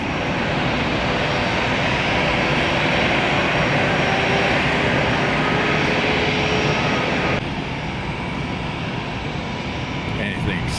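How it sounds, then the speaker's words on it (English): An arriving aircraft coming in to land at Tampa airport gives a loud, steady broadband roar that holds evenly throughout, easing slightly toward the end. "We have an A arrival and they're going to land on the east side."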